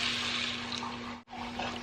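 Steady rush of a cup of water poured into a Dutch oven of beef stew, continuous with a brief break near the end, close by with a faint low hum underneath.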